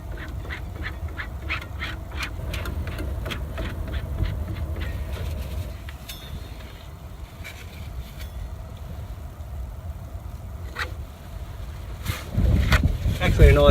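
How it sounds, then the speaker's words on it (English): A low rumbling train passes in the distance with rhythmic clacking, while ducks quack nearby and a brief voice and rustle come at the end. "Actually a nice sound listening to that train."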